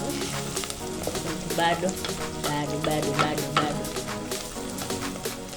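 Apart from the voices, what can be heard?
onions frying in pan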